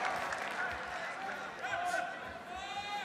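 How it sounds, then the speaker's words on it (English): A sellout arena crowd in Jakarta, Indonesia cheering at a heavyweight kickboxing bout, a broad, moderately distant roar that swells and dips beneath a commentator speaking throughout. "Sellout crowd in Jakarta"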